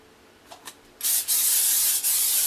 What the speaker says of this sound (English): Just going to give it a quick spritz with a nonstick spray